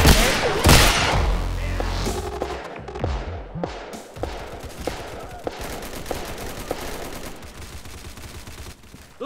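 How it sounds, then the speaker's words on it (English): Mortar and gunfire in a military shooter, a dense barrage of sharp reports and thumps with a heavy burst at the start, then repeated evenly spaced bangs over a steady rumble of battle. "Those are our mortars firing."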